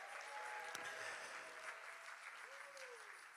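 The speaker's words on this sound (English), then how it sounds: "Why don't you give a clap and a shout unto him?" A church congregation claps and shouts in worship, a faint, steady wash of applause with voices calling out over it.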